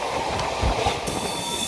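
A train at a railway station: a continuous heavy rumble of rolling wagons with clanking wheel thumps and faint metallic squeal, close and steady for under two seconds.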